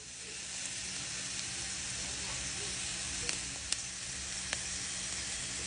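Pork chops with white onions and green chili sizzle in a pan for chile verde, a constant soft hiss with a few sharp pops near the end, faint and steady with no talking.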